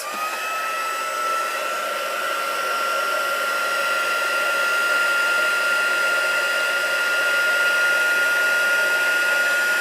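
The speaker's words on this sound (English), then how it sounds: "then you can just bring in the heat tool and then melt that" A heat tool melting embossing powder on a card blows a loud, steady, high-pitched whir that runs unbroken for about ten seconds with no talking.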